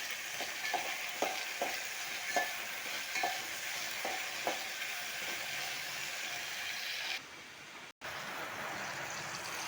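Brinjal frying in oil in a pan while being stirred, a steady sizzle with a string of soft scraping stirs in the first half, then the frying hiss continuing alone.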